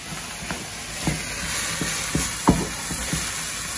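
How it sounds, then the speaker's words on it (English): Pasta tossed in a hot pan with softened vegetables for paleo lo mein sizzles steadily, punctuated by several quick scraping stir strokes close up. "Do the pasta, quick stir."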